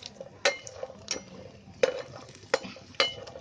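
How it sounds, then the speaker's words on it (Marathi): Ingredients for a Konkani-style navratna pulav frying in a pan, with a spoon scraping and clinking against the metal in a few sharp strokes over a faint low sizzle. "हे चांगले फ्राय करून घ्यायचे"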